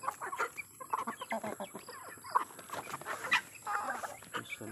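Hens clucking busily close by, a dense stream of overlapping clucks and short calls that carries on throughout, as a flock is given cracked corn to eat.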